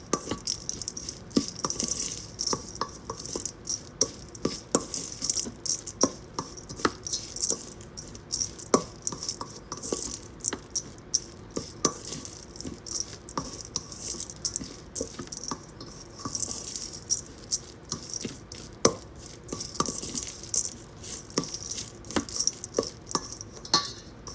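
A solid shampoo bar mixture with rose and mulberry extract being stirred in a container, giving steady quiet scraping and rattling with frequent small clicks and taps throughout, alone with no talk.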